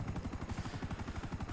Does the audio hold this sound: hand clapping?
no